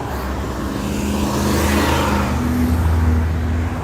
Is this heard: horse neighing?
no